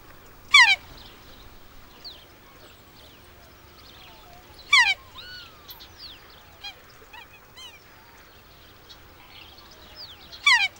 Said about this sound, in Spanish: como este ganso del Cabo Barren